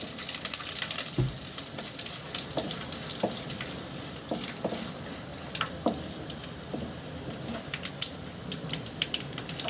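Curry leaves and spices sizzle in a pan as they fry, under frequent clicking and scraping stirs that come at an irregular rhythm, close by and with no voices.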